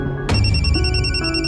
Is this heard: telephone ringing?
yes